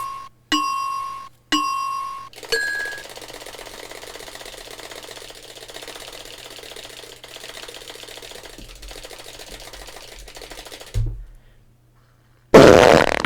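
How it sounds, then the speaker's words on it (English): Cartoonish fart sounds from a farting-competition video game, a few short loud blasts near the start and a final burst at the end, with game music and effects in between. "And here we are, still at the farting competition."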